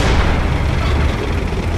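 Tank cannon firing in the video game Panzer Knights, a loud deep boom that rolls out into a dense, rumbling roar lasting the whole brief moment.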